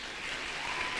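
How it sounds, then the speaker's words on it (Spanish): A church congregation claps together in a steady, even wash of applause at moderate volume, with no voices rising above it. "dale ese aplauso al Señor"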